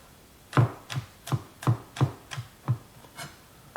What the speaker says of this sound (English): now with these, I'm just going to chop them up finely